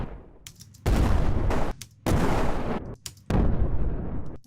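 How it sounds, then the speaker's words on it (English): Three loud, dense blasts of an explosion sound effect being layered in a sound design session, each a broad burst lasting about a second with short gaps between, close and forceful, more like booming gunfire than a single blast. "now let's add the explosion"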